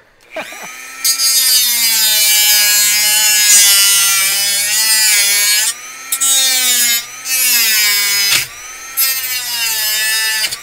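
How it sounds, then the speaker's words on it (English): A Dremel rotary tool whines loudly and close in a high, steady tone, working on a build, cutting out briefly several times before spinning back up. "Okay, Dremel sounds."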